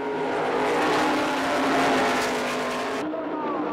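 Several 1996 NASCAR stock cars roar past together on an oval track, a loud, steady engine drone that swells and holds without a break before cutting off sharply near the end.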